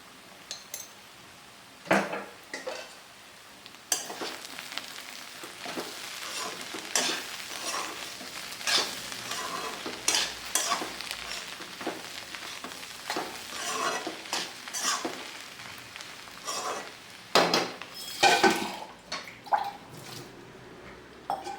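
Ginger paste and cumin powder fry in a pan for a cabbage and prawn curry, a soft sizzle under repeated spatula scrapes and metallic clinks on the pan, with no voices.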